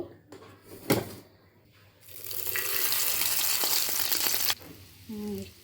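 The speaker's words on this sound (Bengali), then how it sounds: "এবার এক এক করে আমি ডিমগুলোকে ভেজে তুলব।" Fish roe fritters hit hot oil in a frying pan and give off a loud, steady sizzle for a couple of seconds before it drops away, with a few softer kitchen sounds around it.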